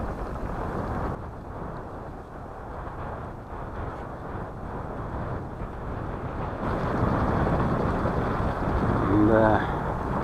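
Strong wind blowing over the Yenisei River at a fishing spot by Tatyshev Island, a constant roaring rush buffeting the microphone that grows louder toward the end, with a short voice near the close.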